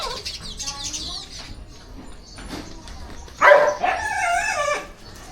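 A dog barks outdoors near an open field, with a few distant barks and then a louder burst of barking, while birds chirp and people talk faintly in the background.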